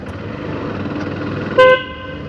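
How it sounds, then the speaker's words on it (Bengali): A short, loud honk from the horn fitted to a rare 125cc cafe racer motorcycle, a single toot lasting a fraction of a second over steady engine and road noise. "বাবা কি হন লাগাইছে বন্ধু"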